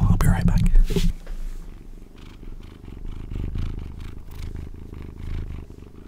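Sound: two-month-old kitten purring

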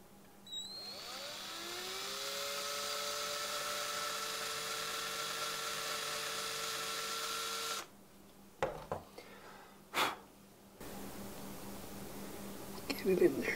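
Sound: drilling a small hole in a Christmas shadowbox ornament

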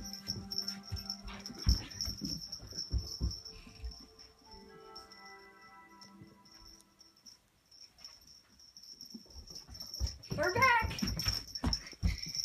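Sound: dog whimpering

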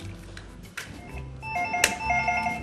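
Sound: telephone ringing with incoming call to radio studio

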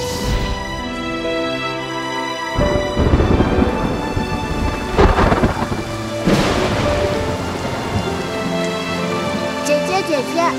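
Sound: thunderstorm with heavy rain

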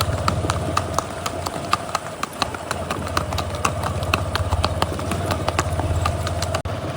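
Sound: horses' hooves clip-clopping during night ride

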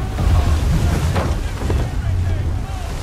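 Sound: sailing ship at full sail, Assassin's Creed 3 video game

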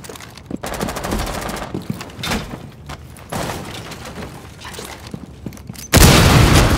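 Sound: gunfire in Rainbow Six Siege video game

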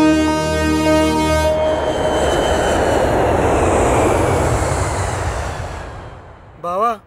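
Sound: airplane arriving, aircraft engine

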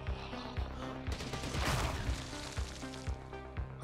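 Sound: explosion in the video game Zombie Night Terror

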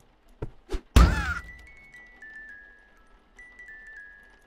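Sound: evil baby hitting itself in a video game

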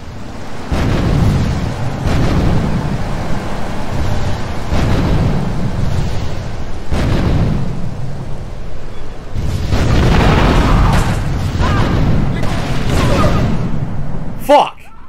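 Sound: rocket launcher explosion in GTA 3 video game

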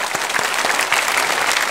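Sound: congregation applauding to welcome new church members

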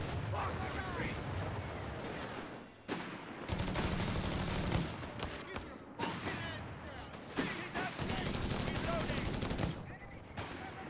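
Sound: heavy machine gun fire in a video game

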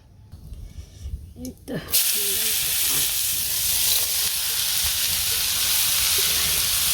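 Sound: ash gourd shukto frying in pan on stove

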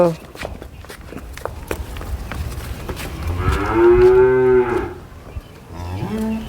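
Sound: cattle mooing

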